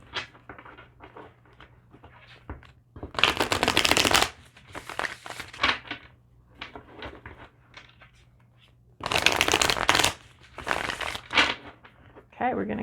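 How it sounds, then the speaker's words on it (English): A deck of tarot cards shuffled by hand, two loud bursts of riffling and flapping separated by softer handling and shuffling noises, close to the microphone. "We'll do a quick shuffle."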